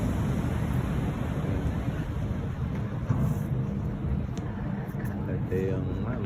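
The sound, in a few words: strong ocean waves breaking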